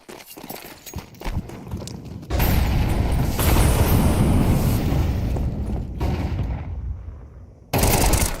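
Counter-Strike 2 gunfire during a professional match at a PGL Major: a few scattered shots and footsteps, then a sustained loud burst of weapon fire lasting several seconds, close and dense.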